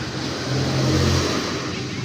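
A faulty, overheating motorcycle engine with a dirty air filter runs and revs up briefly, its low, steady drone swelling in the middle before easing back, heard close up.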